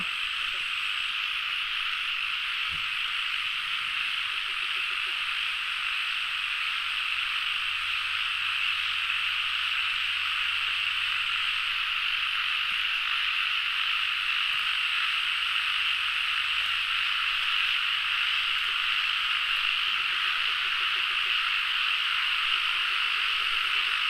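Chorus of frogs croaking steadily through a rainy night after the year's first rain, dense and continuous with a faint low thump partway through.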